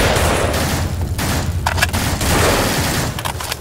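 Rapid gunfire and a grenade blast in the zombie shooter game No More Room In Hell, a dense loud fusillade of overlapping shots with booming low rumble, continuous for the whole stretch.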